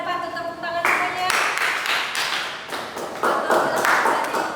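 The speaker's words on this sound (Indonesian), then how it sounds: "Tepuk tangan semuanya." Students in a classroom clap their hands together in a steady burst that fills the room, and a voice briefly speaks over the start.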